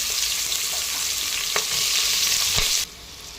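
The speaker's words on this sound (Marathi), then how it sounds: "चला, आता कांदा परतवून झालेला आहे आपला." Onion sautés in a hot pan with whole cloves, black pepper, cinnamon and star anise, a loud continuous sizzle with a couple of soft stirring knocks, then the hiss drops abruptly to a quieter level near the end.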